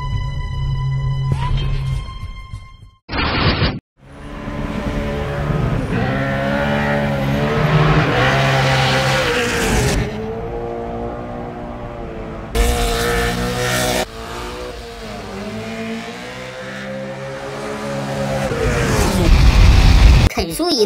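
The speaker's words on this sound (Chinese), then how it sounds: "肯叔一怒必漂移，这辆1965年的野马充分展示了啥叫宝刀不老必闯辉煌，而且这野马可有845马力" A 1965 Ford Mustang making 845 horsepower drifts, its loud engine revving and surging with harmonic roar over roughly twenty seconds, broken by brief cuts, with tire noise rising toward the end and music or other audio mixed in.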